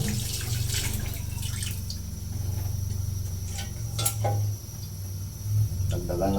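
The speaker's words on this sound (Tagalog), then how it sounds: "Dagdagan natin ng sabaw" Broth streams into a pot of labong (bamboo shoots) with saluyot, a loud steady watery pour with brief splashes near the end, and a voice faintly in the background.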